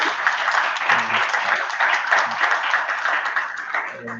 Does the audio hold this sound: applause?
yes